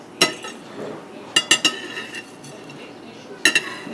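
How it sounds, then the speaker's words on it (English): Ceramic plate and cutlery clinks sound in a kitchen, with a few sharp, close clatters spread apart as a plate is set down upside down, over faint room noise. "Took a plate, I put it upside down here. I'm going to set this down here like that."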